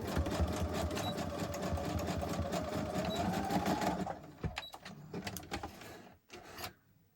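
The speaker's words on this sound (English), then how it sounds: "Sewing machine." A sewing machine stitching pages of a handmade junk journal, running in a fast steady whir for about four seconds, then stopping into softer rustling and handling noises of paper.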